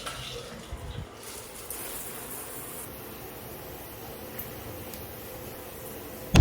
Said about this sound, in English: I need to take a shower post-workout.